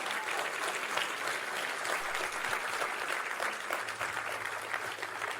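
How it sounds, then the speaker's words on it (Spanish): A church congregation claps together in sustained, dense applause filling the room, steady and fairly loud throughout with no voices standing out. "Denle un aplauso al Señor."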